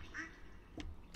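A duck quacks in Stardew Valley, a single short nasal quack early on and a second one shortly after, both near and clear over a soft farm ambience.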